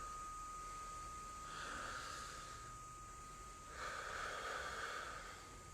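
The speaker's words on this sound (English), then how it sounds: "release your belly and draw your belly button in to your spine and breathe out." Pranayama belly breathing, two slow, soft breaths drawn in and let out, faint and close with no talk over them.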